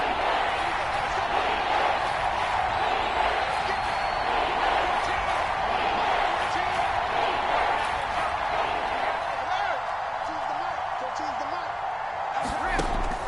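Steady roar of a stadium crowd in an NFL football video game ahead of a big third down, a constant wash of cheering and noise holding level throughout, with a commentator talking over it.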